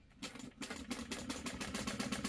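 A sewing machine stitches bag pieces together in a close, continuous run with a rapid rhythmic needle chatter throughout.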